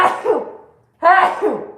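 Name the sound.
sneeze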